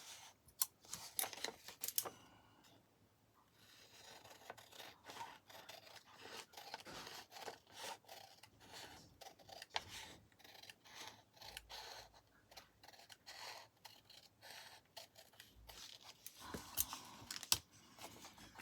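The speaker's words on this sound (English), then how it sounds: "let me cut this out" Scissors snip paper for a lap book in a long run of faint, close, irregular cuts with rustling paper between them and no talking.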